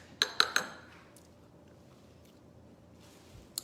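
A spoon clinks sharply against a dish three times in quick succession while stirring vanilla into pudding, then a quieter scraping stir follows, close and fairly faint.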